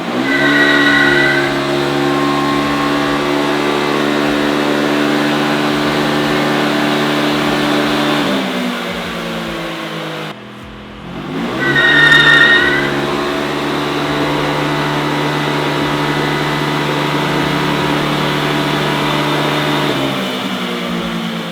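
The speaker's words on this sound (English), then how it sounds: "we did 2 back-to-back dyno pulls at about a little over 8 pounds of boost, 142 wheel horsepower." A turbocharged Polaris Xpedition engine at a little over 8 pounds of boost revs hard through two back-to-back dyno pulls, each a long rising roar that drops off, separated by a short lull, loud and close.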